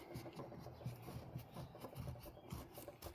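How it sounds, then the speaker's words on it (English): Cloth rubbing over a coin to polish it back toward mint condition, a soft, steady, close-up rasping that continues through the whole clip without talk. "Oh, keep rubbing it."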